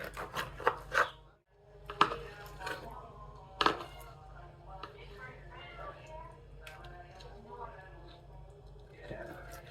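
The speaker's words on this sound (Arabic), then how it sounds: "نقطع دي بتي مورسو" Vegetables chopped into small pieces on a board, several sharp close knocks in uneven bursts under a voice talking.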